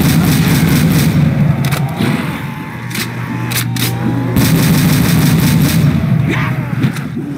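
Gunfire from a weapon in Call of Duty: World at War zombies, loud, dense repeated shots sitting under a constant heavy wash of game noise for the whole stretch.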